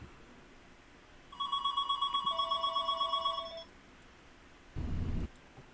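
A phone rings with an incoming call, a bright electronic ringtone of rapid warbling tones lasting about two seconds against a quiet room, followed by a short burst of low rumbling noise.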